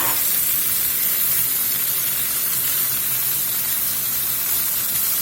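Carrots and onion sizzle in a pan with browned beef, a steady, close hiss of frying that holds evenly throughout with no talk over it.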